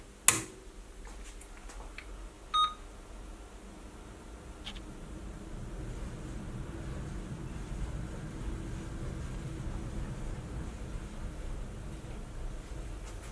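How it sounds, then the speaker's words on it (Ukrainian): A Corvette 8010 computer is switched on: a sharp click at the start and another click shortly after, then a low, steady electrical hum and fan-like noise that swells slightly and continues, fairly quiet. "Комп'ютер Corvette 8010. Вмикаємо."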